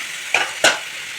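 A peanut kurma base sautés in a pan as nuts go in. Two quick scraping stirs cut through a soft, steady sizzle close by.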